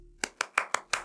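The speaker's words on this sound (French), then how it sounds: "il y a des applaudissements sarcastiques" Slow, sarcastic clapping by hand: five sharp, evenly spaced claps, close and dry, with nothing else around them.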